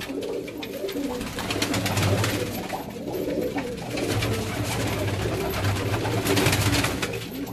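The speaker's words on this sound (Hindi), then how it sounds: "ये इनके दूसरे केज में मैं आपको दिखाता हूँ इनके कबूतर।" Pigeons kept in a cage by a fancier in Multan cooing steadily, a layered low murmur of several birds close by with soft rustling throughout.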